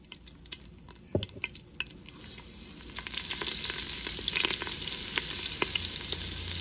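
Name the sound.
second batch of chicken frying in oil and butter in Ninja Foodi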